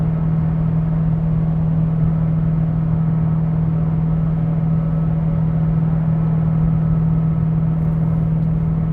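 A car engine turning about 2,500 RPM while cruising near 75 mph on a highway gives a steady, even drone with a strong low hum and constant road rumble, unbroken and alone.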